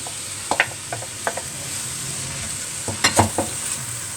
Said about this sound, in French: Donc là je vais aller mettre le beurre là dedans direct. Et je vais les mettre les oignons.